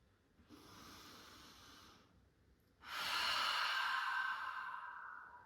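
Slow breaths during a yoga mudra: a soft, long inhale, a brief pause, then a louder, airy exhale close to the microphone, with no talking.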